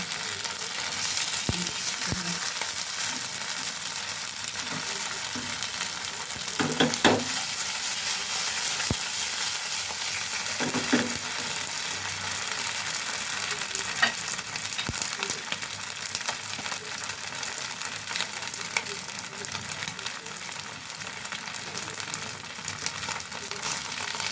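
Lopak ko pastries fry in hot oil with a steady, even sizzle and crackle that carries on for a long stretch, with occasional soft clinks and stirring touches and no talking.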